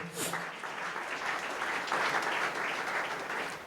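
Congregation at a Pentecost seminar applauding in praise, a continuous patter of clapping from many people, moderately faint and steady, with some indistinct voices mixed in underneath.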